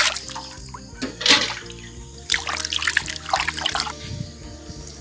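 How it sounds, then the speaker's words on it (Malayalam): Scored whole fish for Indian-style spicy grilling is washed under running water, a splashing, trickling stream with uneven bursts and drips over a steady low background hum. "ഇനി ഇത് നമ്മളത് നന്നായി കഴുകണം."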